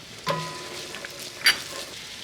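Finely minced fresh ginger dropped into a hot enameled cast iron pot for braising, giving a quiet sizzle with a couple of brief stirring clinks, close and alone.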